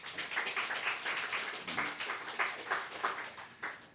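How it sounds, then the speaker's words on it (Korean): A church congregation applauds at a Sunday morning service, a fairly brief patter of many hands clapping in uneven bursts, moderately loud and close, with no voices over it. "하나님께 영광 박수 올립시다"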